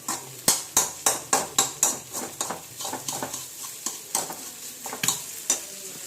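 Egg frying in a pan in a village kitchen: a fast, regular run of spatula strikes against the pan over a low sizzle, later slowing into uneven taps and scrapes.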